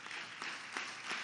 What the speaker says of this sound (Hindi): जोरदार तालियों से स्वागत इसका